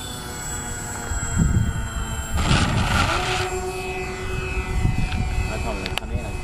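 The engines of a Twinstar II twin-engine radio-controlled model airplane whine overhead as the throttle is advanced from idle. A steady buzzing tone rises and swells, and people talk over it.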